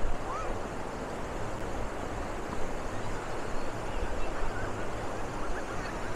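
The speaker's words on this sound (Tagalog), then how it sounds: "Lakas ng alon ha." Strong ocean waves surge onto a Boracay beach, a loud continuous wash of surf with wind noise rolling on without a break, no clear speech.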